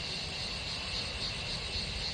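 Daytime forest crickets drone continuously, with faint pulsing chirps rising over a constant high-pitched insect hum, steady and unbroken.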